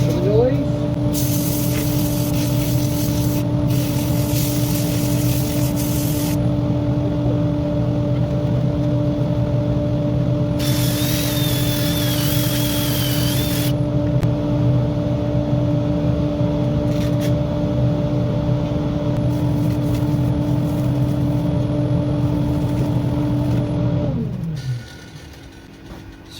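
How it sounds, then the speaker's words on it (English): Power sander working an oak platter, a loud steady whine with strong harmonic hum running continuously for about 24 seconds, with bursts of hissing grit noise, before spinning down and stopping near the end. "Do a bit of sanding now."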